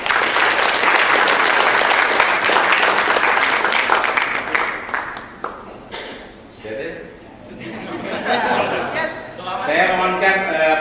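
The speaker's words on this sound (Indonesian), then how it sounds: "Mohon tepuk tangannya, Pak." Loud, dense applause from a seminar audience fills the first half and then thins out into scattered claps. Voices and murmuring chatter carry on underneath and take over as the clapping fades.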